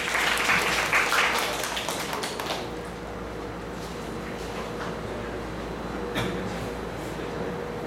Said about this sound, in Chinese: 来，我们掌声欢迎一下